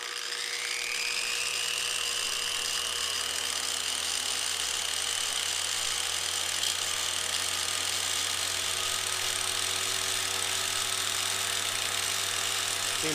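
A homemade surface conditioning tool running under speed control, a constant high-pitched motor whine with a steady drone that holds level throughout, with no talking.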